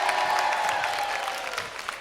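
Repeat guests on the Carnival Liberty cruise ship clap and cheer during a welcome aboard show, a short burst of crowd applause with whoops that stays steady and then thins out.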